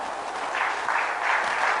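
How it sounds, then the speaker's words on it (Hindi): Audience at a live satsang claps together in a sustained, moderately loud burst of applause, rising slightly toward the end. "तालियां।"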